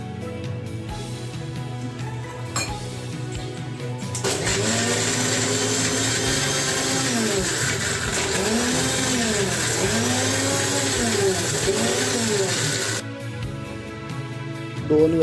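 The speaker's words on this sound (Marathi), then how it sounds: "आता हे जे पाय आहेत ते स्वच्छ धुवून घ्यायचे आहेत आपल्याला, कारण आपण ते आता मिक्सरला लावणार आहोत" A kitchen mixer grinder runs on washed crab legs, a loud, steady motor whine with a grinding, churning rumble that wobbles in pitch, lasting about nine seconds and then cutting off, with quieter handling noise before and after.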